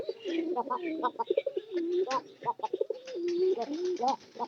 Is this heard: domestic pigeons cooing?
yes